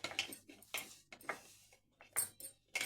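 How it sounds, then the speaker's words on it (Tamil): A spoon stirs cocoa powder into biscuit dough in a bowl, with repeated light clinks and scrapes close by in an uneven rhythm. "கொக்கோ பவுடர் ஆட் பண்ணி நல்லா கலந்து விட்டுக்கோங்க."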